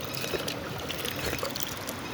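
Mountain water flows steadily in a stream in the hills, a continuous close rushing and splashing with no pauses and no voices.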